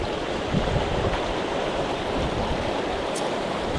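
Cold Appalachian Trail stream water rushes around someone wading in sandals, a loud, close, continuous broadband roar of flowing current with no talk.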